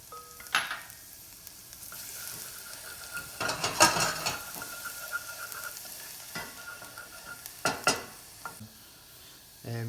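Minced garlic, two large cloves, sizzling in about two tablespoons of hot olive oil in a pot, a steady close crackle broken by a few louder stirring scrapes and clanks.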